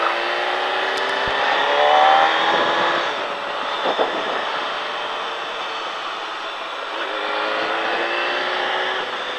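Motorcycles riding on the Mettet race track, a continuous loud engine drone that swells and eases, with a nearby engine rising and falling in pitch over a wider roar.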